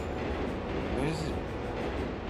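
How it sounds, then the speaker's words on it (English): In the video game Turok 3, a train rumbles past with a broad, steady roar that swells slightly midway and fills the clip, and someone talks over it. "Train was not as close as I thought it was gonna be."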